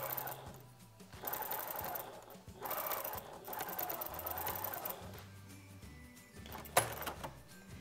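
Sewing machine running in bursts of stitching as triangular bias tape is top-stitched along the neckline of a cotton apron dress, a steady close-up mechanical whir with short pauses between runs.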